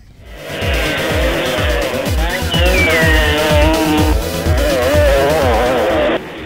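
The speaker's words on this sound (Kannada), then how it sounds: "ಕಚ್ಚಾ ರಸ್ತೆಯಲ್ಲಿ ಬೈಕ್ ಓಡಿಸಿದ ಸಾಹಸಿಗರು ನೆರೆದಿದ್ದ ಜನರನ್ನ ರಂಜಿಸಿದ್ರು" Motorbikes racing on a dirt road at a Dasara festival event near the Lalitha Mahal helipad in Mysuru, loud revving engines with rising and falling pitch and rapid repeated throttle bursts, close and continuous.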